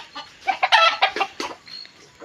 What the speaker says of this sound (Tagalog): Mga manok malapit na ring humapon.